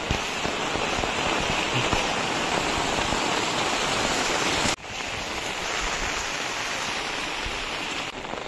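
Heavy monsoon rain and a large waterfall make a dense, continuous roaring hiss, loud and broadband with no pauses, in the Konkan hills near a village temple, with a brief dip partway through before the roar resumes.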